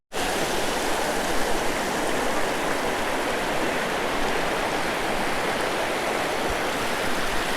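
A pebbly river, the Koolangal, flows steadily in a broadband rushing wash, close and constant throughout with no talk.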